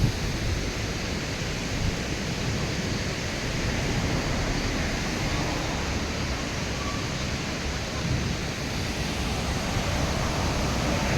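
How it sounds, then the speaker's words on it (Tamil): Water rushing at Law's Falls, a waterfall, fills the scene with a steady, dense broadband roar that stays even and unbroken throughout, with no voices. "இது நேம் வந்து லா ஃபால்ஸ். செம்மையாக இருக்குது, தண்ணி அடித்து ஓடுது."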